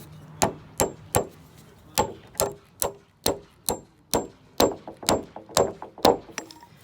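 Hammer strikes driving a toenail through a garage wall bottom plate: about fifteen sharp, ringing metallic blows at a steady, fairly quick rhythm, close and loud, with no talk.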